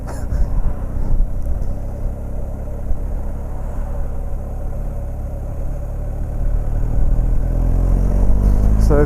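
A BMW R 1250 GS motorcycle engine pulls hard in fourth gear, a steady low rumble under heavy wind buffeting that swells louder toward the end as the bike gathers speed.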